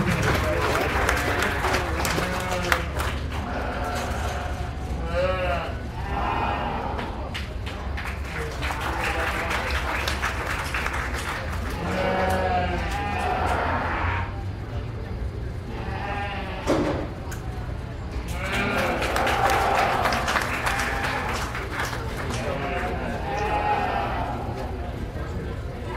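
Sheep bleat repeatedly at a county fair sheep show, several animals calling in overlapping bursts amid crowd murmur, clapping and an announcer speaking over a steady arena din.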